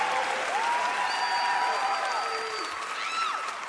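Applause rolls through a stand-up comedy audience in San Francisco, a dense, steady wash of clapping with a few cheers and whistles, easing slightly near the end.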